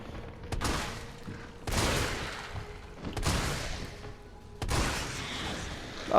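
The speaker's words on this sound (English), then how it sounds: "the shotgun does wonders" A shotgun fires in Resident Evil 3, four heavy booming blasts spaced about a second apart, each trailing into a rumbling decay with game sounds beneath.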